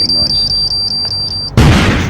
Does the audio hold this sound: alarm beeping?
yes